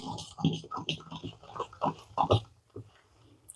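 Thick fermented jowar idli batter is mixed by hand in a bowl, producing close, wet squelching bursts in an uneven rhythm that fade toward the end.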